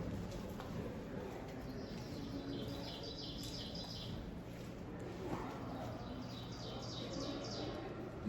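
Ovenbird song in an Algonquin sugar maple hardwood forest, repeated rising chirped phrases carrying from some distance over a quiet, steady woodland background.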